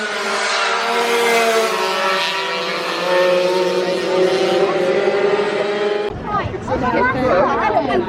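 Race cars on the Conrod Straight at Mount Panorama during an AC40 Rookies event, a loud sustained engine drone holding steady for several seconds before cutting to a different, rougher engine sound near the end.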